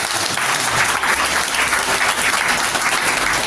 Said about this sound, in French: je vous demande, toute la salle, avec des applaudissements